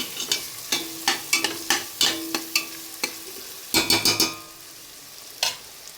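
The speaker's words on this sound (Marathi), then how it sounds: "चांगलं हे मटर असं चांगलं परतून झालेलं आहे आपलं." Green peas stir-fried in oil in a pan: a faint background sizzle broken by a quick run of sharp spatula taps and scrapes against the pan, close and with no voices.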